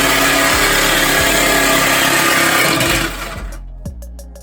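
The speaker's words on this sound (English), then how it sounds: "That Sawzall blade went through there extremely clean." A Sawzall reciprocating saw cuts through the barrel of a wheel rim, making a loud, harsh buzzing drone that runs for about three seconds and then stops, followed by a few light metallic clanks.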